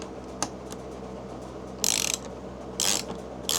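Ratchet clicks while snugging radiator guard bolts into plastic on a 2024 KTM 450: a short isolated click, then three close, crisp bursts of rapid ratcheting over quiet background.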